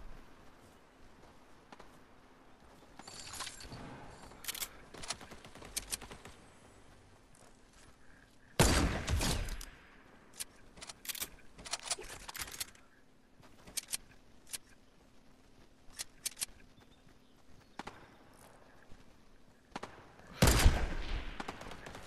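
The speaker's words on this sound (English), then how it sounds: "There is someone shooting a burst." Burst gunfire in the Fortnite video game, several quick volleys of shots scattered across the stretch, some distant and faint, one louder close burst midway and another near the end.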